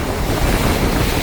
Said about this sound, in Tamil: பயங்கரமாக வந்து அடிச்சு நிற்குது. மேலே எல்லாம் தண்ணி வந்து பாயுது.